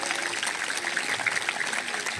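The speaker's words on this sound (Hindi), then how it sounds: "आइए जोरदार तालियां लगाते हैं" Dense crowd clapping at a National Yoga Day event at HMV College, Jalandhar, steady and continuous, heard from a short distance with a faint murmur of voices mixed in.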